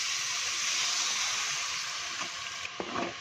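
Tomatoes sauté in a pan for an okra and tomato curry, making a close, steady sizzle and hiss that suddenly thins out near the end, followed by a few soft stirring clinks.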